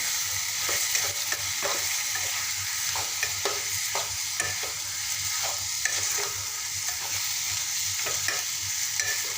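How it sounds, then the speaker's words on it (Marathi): Mixed vegetables with salt sautéing in a pan for a restaurant-style veg Kolhapuri, a steady loud sizzle broken by repeated scraping stirs of a spatula, with no voices. "आता मी अर्धा चम्मच चवीपुरतं मीठ घालणार आहे त्याला छान असं परतून घेणार आहे"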